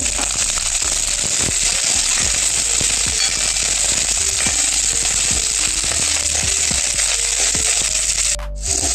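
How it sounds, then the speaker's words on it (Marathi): Ten to twelve garlic cloves roast in hot oil in a pan, giving a continuous dense sizzle with scattered crackles and pops, close and loud throughout. "हे लसणाच्या 10-12 पाकळ्या घेतले, हे भाजून घेऊ. तेल टाकून घेऊ."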